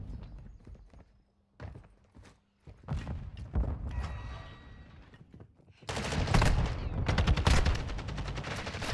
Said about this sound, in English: Why are you shooting my body?